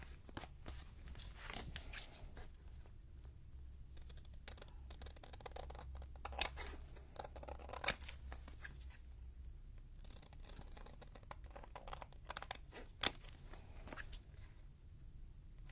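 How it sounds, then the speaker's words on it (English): Long scissors snip through paper at a desk while junk journal pages are made: rapid, crisp cuts in irregular clusters, close and fairly quiet, with no voices. "If you use long scissors when you do these cuts, it's much easier than using short scissors."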